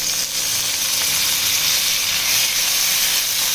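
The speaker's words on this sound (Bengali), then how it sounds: "এবার এর মধ্যে আমি টমেটো কুচিটা দিয়ে দেবো" Chopped tomato sizzles in a pan with softened onions, giving a loud, continuous, close frying hiss with no talk.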